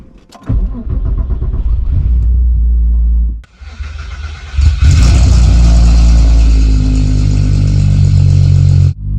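A VW MK3 VR6 in a widebody car starts for the first time in five months: a short crank and catch, a dip, then a second crank into a loud, steady idle, close up.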